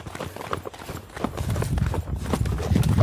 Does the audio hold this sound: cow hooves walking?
yes